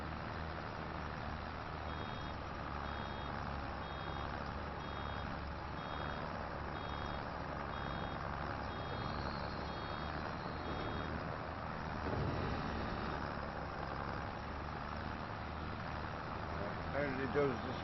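A 7610 tractor baling with a small-bale baler in Farming Simulator 25 gives a steady, loud engine drone throughout, with a regular series of short beeps over the first half.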